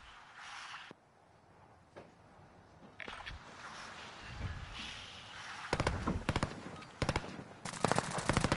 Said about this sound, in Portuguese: Já ouço tiros aí por todo lado